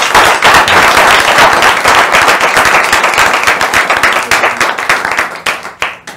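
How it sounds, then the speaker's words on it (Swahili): Dense applause from a television studio audience at the end of a Kenyan weekend news show, steady and loud at first, then thinning into scattered claps and fading out. "Wapi makofi yake?"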